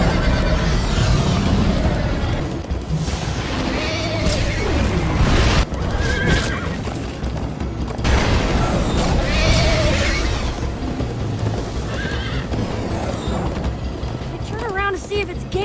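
Horse galloping in the Minecraft Story Mode video game, with repeated neighs and whinnies over clattering hooves and mechanical creaks, loud and busy, with brief voices mixed in.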